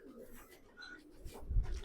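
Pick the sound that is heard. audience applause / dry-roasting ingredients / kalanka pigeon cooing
kalanka pigeon cooing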